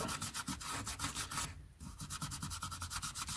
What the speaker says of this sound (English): let's give the top edges a rub